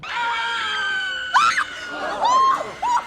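A group of people screaming in short, shrill bursts, several loud overlapping cries rising and falling, with a sustained high wail near the start, no talking.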